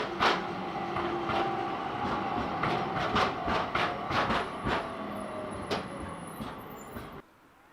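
A tram rolls through Kraków, Poland, its wheels clicking and clattering in a steady rhythm over rail joints, with faint squeals and a constant rumble before the sound cuts off near the end.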